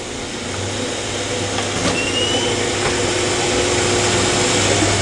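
An 880-S SRD machine with A192-81M rotors runs a low-speed 500 RPM wrench cycle, giving a steady, continuous mechanical whir and hum at moderate level, with faint clicks over a constant motor drone.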